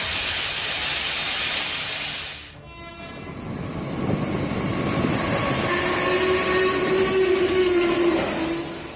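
A locomotive on railway tracks rumbles loudly past with a long horn blast at the start, then a heavy rolling roar with rising and falling whining tones as it keeps moving.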